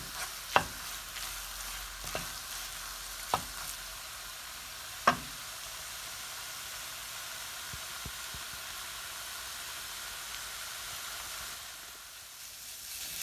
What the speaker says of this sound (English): You can see, scrape from all the sides,